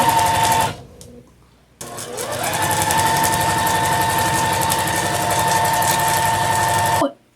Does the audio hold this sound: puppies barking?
no